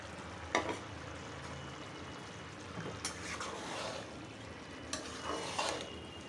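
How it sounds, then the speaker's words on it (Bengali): Meat and potato pieces go into a pot of dum biryani, giving faint, soft thuds and brief stirring scrapes spread over a quiet, low simmering background. "এই মাংসটা আর আলুটা আমি দিয়ে দিব"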